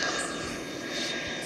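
An aircraft engine drones in a video game, a steady loud roar with a faint whine running throughout, no clear voices over it.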